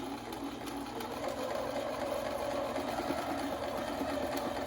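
A sewing machine runs steadily while reverse stitching a fabric face mask, a continuous close mechanical whir with fine rapid needle chatter and no pauses.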